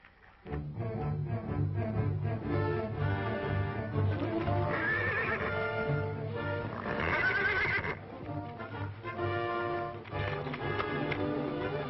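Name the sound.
horse neighing and hooves clip-clopping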